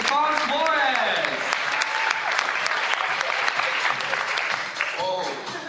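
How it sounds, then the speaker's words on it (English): An audience at a cultural wear pageant claps loudly and continuously for a contestant, a dense wash of applause with a faint voice near the start and end. "Round of applause for Stefan Suarez."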